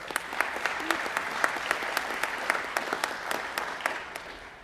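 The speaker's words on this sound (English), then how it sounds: "Let's give him another round of applause." An audience at a community gathering gives a steady round of applause, dense clapping at moderate distance, even throughout and fading slightly at the close.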